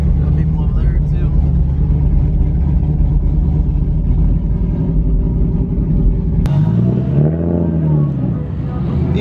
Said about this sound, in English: BMW sounds good.